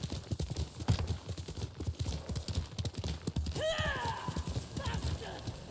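Horse hooves walking in the Ghost of Tsushima video game, a steady close clip-clop rhythm under a speaking voice, followed by a brief whinny near the end.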